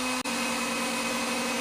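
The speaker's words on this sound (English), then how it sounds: "we're just gonna try using this first, the heat gun." A handheld heat gun blows hot air: a steady, loud, close whooshing hiss that holds evenly throughout after a brief dropout near the start.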